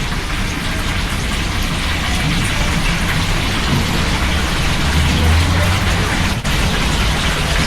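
Heavy rain pours steadily onto surfaces outdoors near a market, a loud, dense, unbroken wash of drops close by with a low rumble beneath, and no voices over it.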